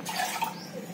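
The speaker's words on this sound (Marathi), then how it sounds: "बस थोडं पाणी घालते" A little water is poured into a pan of whole green moong masala curry, a short, close splashing trickle lasting about a second.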